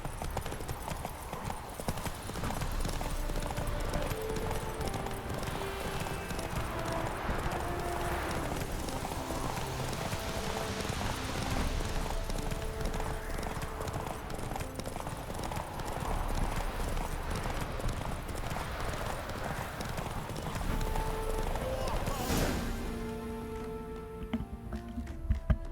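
Hooves of a horse in The Witcher 3 clop steadily at a gallop for the whole stretch, rhythmic and close, over a bed of game ambience with a brief whinny-like burst near the end.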